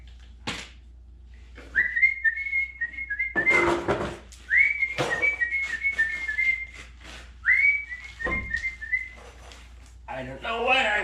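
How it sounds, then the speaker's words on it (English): A person whistles three short melodic phrases, each a rising note settling into a steady tone, close and clear with pauses between, amid scattered clanks from rear brake work on an old blue Ford F250. "I don't know why I want to whistle."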